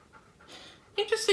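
A dog pants in quick, soft breaths nearby, and a person's voice then talks over the panting.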